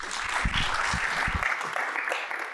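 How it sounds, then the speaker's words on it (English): Audience applause welcoming speakers at an event, a soft, steady patter of clapping heard at a distance with a few low thumps early on. "please join me in a round of applause in welcoming Arun and, of course,"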